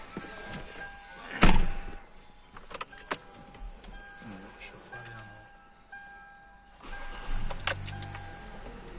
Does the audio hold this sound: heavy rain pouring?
no